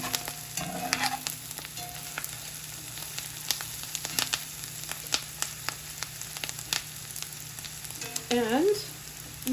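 Onions with chopped garlic and fresh thyme sizzle steadily in a pan for a Spanish tortilla, a close continuous frying hiss dotted with sharp pops and occasional utensil taps.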